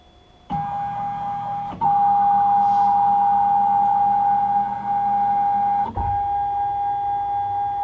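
A CNC mill running while it is zeroed before engraving a maker's mark: a loud, steady electric motor whine that steps up in pitch and level, with clicks at each change. No one talks.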